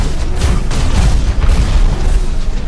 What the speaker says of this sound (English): That is a shotgun, my friends.